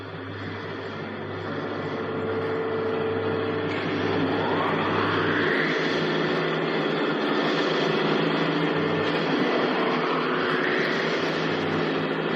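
Rocket engines fire as brakes on the 1955 Disneyland Rocket to the Moon ride soundtrack: a steady, roaring rumble that swells in, with two rising whooshing sweeps partway through.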